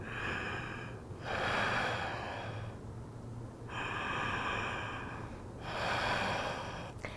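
Deep, audible breaths during a Koundinyasana yoga flow: three long, airy inhale-and-exhale swells close to the mic, steady and unhurried, with no speech.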